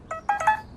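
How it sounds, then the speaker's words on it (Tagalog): Mobile phone text message alert, a short bright electronic chime of two or three quick tones, faint and alone in a quiet room. "Nag-text ni Angeli"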